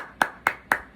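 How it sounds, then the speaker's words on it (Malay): Four sharp hand claps, close and evenly spaced about a quarter second apart, with nothing else heard around them. "Marah aku tepuk tangan"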